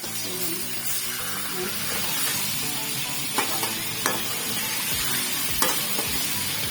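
Steady sizzling and hissing of chicken frying in a hot pan for biryani, with a few clinks of a utensil stirring, close and continuous.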